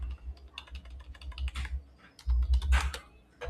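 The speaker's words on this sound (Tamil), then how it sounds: "நம்ம ரேடியஸும் கூட என்ன பண்ணலாம்னா டைப் பண்ணலாம்" Keys clatter on a computer keyboard in quick, uneven bursts of close taps with short pauses between them, and nobody speaks.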